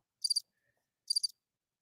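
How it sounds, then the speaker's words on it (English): Crickets give two short bursts of high, rapid chirping, each a quick trill of a few pulses separated by a second of near silence, faint and with no voices. "Speaking of crickets"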